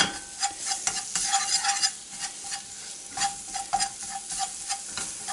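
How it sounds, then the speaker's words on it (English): Tomato paste is mashed into browned venison in a cast iron skillet, giving a steady sizzle of frying meat broken by repeated scraping and stirring strokes, close and fairly quiet, with no talking. "Then I'm going to add my tomato paste. And just mash that in with it."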